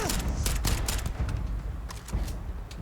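Rapid rifle gunfire in the space shooter game Starfield, a dense volley of loud, cracking shots packed close together for several seconds, with booming low-end impacts and no talking.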